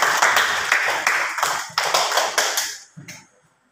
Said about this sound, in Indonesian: kita berikan aplaus untuk kelompok kedua